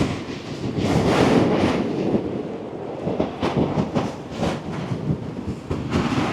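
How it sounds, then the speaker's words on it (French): Strong seaside wind buffets the microphone with loud, continuous rumbling roar and gusty bursts, close and overwhelming, with no talk. "Oh, il y a un vent de malade!"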